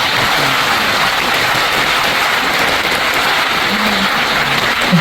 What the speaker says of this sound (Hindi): सबसे पहले तो जितने लोग योद्धा बने इनके लिए जोरदार ताली बजाओ।